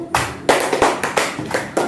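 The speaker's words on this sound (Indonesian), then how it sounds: "Tepuk tangan untuk kelompok 1." A small group claps in a classroom after a group presentation at an Islamic education teacher-training session, the claps falling in a steady, rhythmic beat of sharp bursts about three per second, close and fairly loud with no talking.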